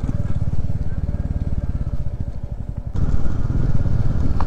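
Motorcycles ride over a rough off-road mountain track, a steady close engine drone with rapid pulsing throb that swells louder partway through, with no talk over it.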